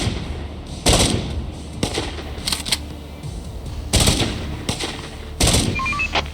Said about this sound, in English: So as you can hear, we have a semi-automatic just like they did.